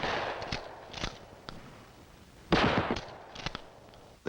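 A shotgun fired from the hip at close range in a 1960 FBI training film, sharp reports cracking out singly at irregular intervals, with a cluster of shots and echoes about halfway through.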